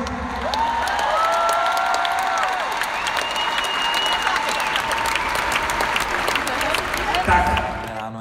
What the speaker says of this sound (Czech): Potlesk pro LGG